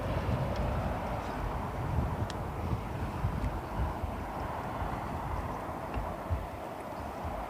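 A Finnair airliner at London Heathrow Airport produces a distant, steady low jet rumble mixed with wind noise, with faint voices in the background.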